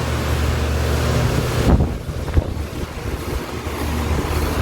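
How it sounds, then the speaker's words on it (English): An outdoor home air-conditioning compressor and condenser coil unit runs with a steady, broad mechanical whir and fan rush, heard up close and continuous throughout, with some wind-like buffeting. "let me show you guys the outside compressor or the coil"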